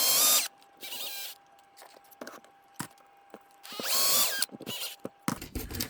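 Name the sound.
drilling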